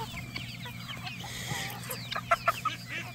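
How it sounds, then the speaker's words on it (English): A baby chicken clucks softly outdoors in the heat, a few quiet clucks rising over low steady background hum, with the clearest notes coming close together near the end. "What's up, baby chicken"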